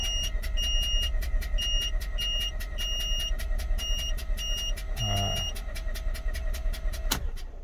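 A 2006 Mazda RX-8 rotary engine cranks on a new starter motor, a steady rhythmic pulsing that runs throughout, with a regular electronic beeping laid over it and no voices.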